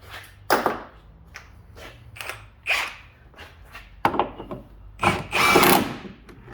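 A power tool on a middle setting tightens bolts during rear shock replacement on a 2013 to 2020 Ford Fusion, sounding as short, uneven bursts of whirring and ratcheting with pauses between them.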